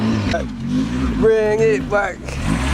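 A Chevy Nova engine revs in two quick rising bursts with a brief dip between them, close and loud, while someone shouts over the noise.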